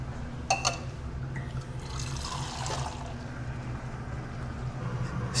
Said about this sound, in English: So now I have to add 3 cups of hot water.